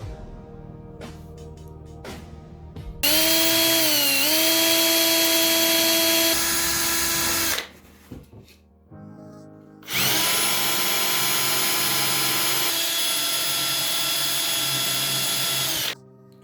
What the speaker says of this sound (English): just take your time drilling the holes